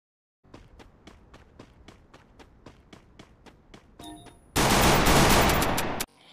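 Gunfire is heard from the Free Fire video game inside a cartoon comedy. A string of evenly spaced sharp taps leads into a loud, dense burst of rapid fire that lasts about a second and a half, then cuts off abruptly.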